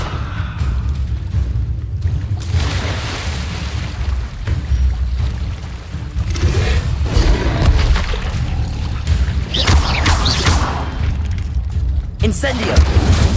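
Incendio fire spells cast repeatedly in Hogwarts Legacy, a continuous roaring, crackling burst of flame with booming low rumble across the whole stretch, loud and dense, flaring brighter in several surges.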